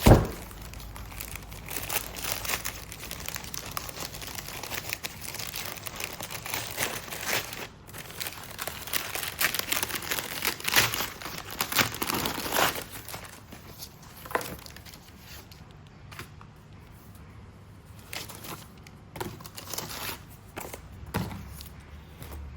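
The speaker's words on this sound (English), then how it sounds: "let's get these greeting cards out" Greeting cards are pulled from their plastic packaging in a studio, a long stretch of close crinkling and rustling wrapper with occasional sharper tears and light handling taps, gradually quieting toward the end.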